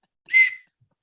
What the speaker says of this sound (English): Here's my whistle, and it says JP on it.